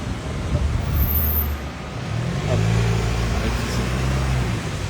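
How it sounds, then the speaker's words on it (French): A car drives past on a nearby road, its low engine rumble swelling and then fading under steady traffic noise. "il y avait une voiture qui passait"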